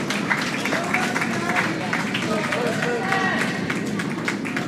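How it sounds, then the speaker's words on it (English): Applause from a crowd in the warm room at a junior curling bonspiel as players come off sheet D, a steady dense clapping that fills the space alongside a murmur of voices. "Applause in the warm room for sheet D coming off the ice."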